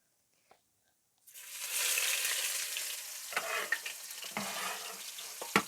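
Onions go into hot bacon grease, and after a moment of near silence a sudden broad sizzle rises and holds steady, with a few close stirring scrapes and taps on top.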